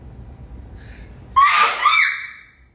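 A single sharp sneeze bursts out after a moment of quiet breathing, loud and close, with a brief breathy tail as it fades.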